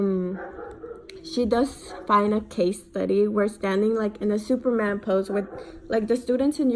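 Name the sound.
dog barking in the background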